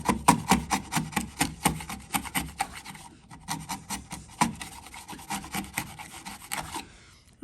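A chisel pares wood inside a housing joint: quick, steady rasping strokes in a brisk rhythm, close by, with a short pause midway before the scraping resumes.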